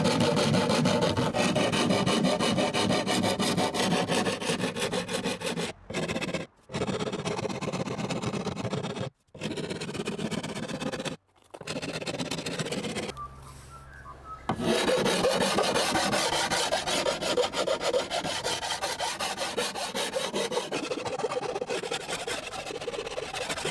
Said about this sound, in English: I start off with quite a coarse file, which has these tiny metal teeth covering the surface. I use that to straighten up my wonky edge.